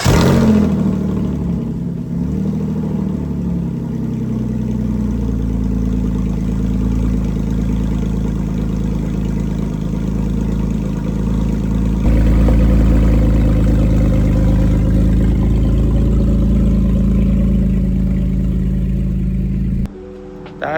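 A 2007 Porsche Cayman S with its mufflers deleted rumbles loud and steady through a cold start, a raw high idle that holds for about twenty seconds before cutting off abruptly.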